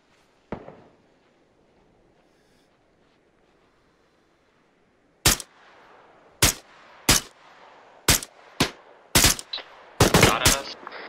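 Gunfire in the military game Arma 3: one distant crack, a few quiet seconds, then a string of loud, sharp shots at uneven intervals, closing in a rapid cluster of overlapping bursts.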